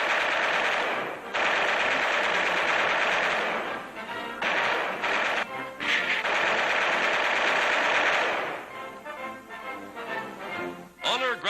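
Machine guns fire during 1942 Army Air Forces aerial gunnery training against small moving targets. Loud, rapid bursts repeat with short breaks, and the last seconds turn more ragged and sputtering.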